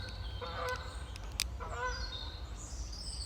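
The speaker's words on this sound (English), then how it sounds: "treated to a set of geese" Several geese honk in short bursts from a moderate distance, their nasal calls overlapping against steady outdoor background noise.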